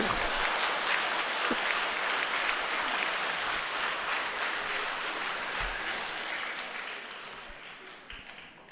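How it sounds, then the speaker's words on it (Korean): Applause from a church congregation during a Sunday Mass homily, a steady dense clapping that holds throughout and gradually thins and fades toward the end. "박수 좀 치라고."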